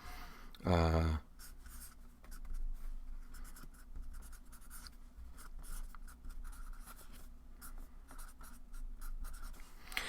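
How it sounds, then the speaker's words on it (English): Pen scratching on paper as something is written by hand, close and continuous with soft strokes and pauses, following a short loud thump at the start. "So I'm going to write that one down."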